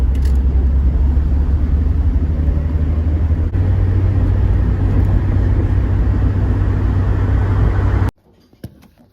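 A Toyota car engine idling smoothly, a steady loud low rumble that runs unbroken for about eight seconds before cutting off abruptly, no speech.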